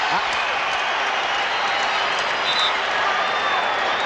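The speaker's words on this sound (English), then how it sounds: "the crowd up applauding the aggressive play of Cleveland" Steady, dense applause from an arena basketball crowd at a 1993 Chicago Bulls at Cleveland Cavaliers NBA playoff game, a broad continuous roar of clapping and cheering that holds evenly throughout.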